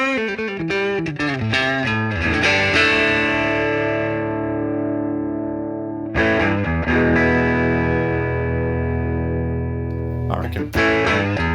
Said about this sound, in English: So you've got treble, which if you turn it all the way up, sounds like this.